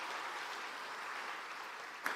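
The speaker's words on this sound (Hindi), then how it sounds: "जरा ताली बजाए तो जोर से बजाएं" Audience applause at an event launching a girls' empowerment campaign, a soft, dense wash of many hands clapping heard at a distance, ending with a brief sharper bump.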